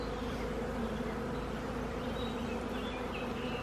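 Honey bees buzzing around a hive box, a steady, even drone close by with no voices.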